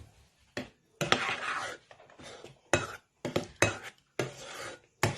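A metal spoon scrapes and taps against a bowl while folding a chocolate keto dessert mixture, in short separated strokes with brief pauses, close and fairly quiet, no talking.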